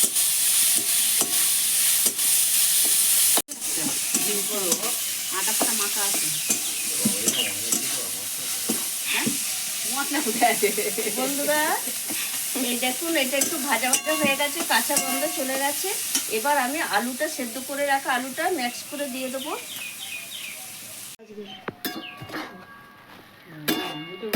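Onion, garlic, capsicum and carrot fry in a pan while being stirred, a bright steady sizzle with spatula scrapes and clatter up close, dropping to near silence at the end.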